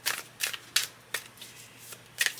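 A Hermetic Tarot card deck is shuffled in a series of crisp riffling bursts, about six close, sharp flurries spaced at a steady rhythm against a quiet background.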